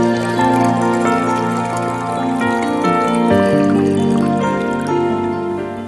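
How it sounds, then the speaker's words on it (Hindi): Water poured into ginger lemon sharbat, a steady trickling, pouring wash under soft background music throughout. "तकरीबन आप इसमें 2 कप पानी डाल दें।"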